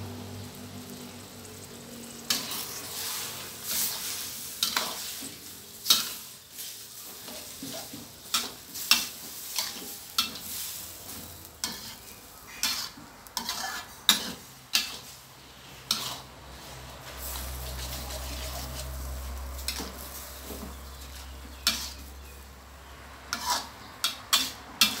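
Vermicelli with mixed ingredients is stir fried with fish sauce and oyster sauce, the spatula striking and scraping the pan in repeated sharp clacks over a low sizzle, with a deep rumble joining near the end.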